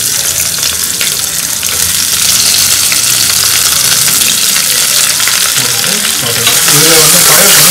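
Onions sizzle loudly in hot oil in a pan on a home stove, with steady frying hiss and the scrape of a spoon stirring through, continuous and close throughout.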